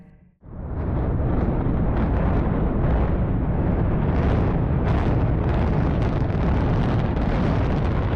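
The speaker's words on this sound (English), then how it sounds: "UAE demolished the Abu Dhabi MENA Plaza towers Friday, November 27, 2020 in a 10-second controlled explosion." Controlled demolition of the MENA Plaza towers in Abu Dhabi, a sudden loud blast followed by a sustained, roaring rumble of collapse that stays heavy and continuous to the end, with wind buffeting the microphone.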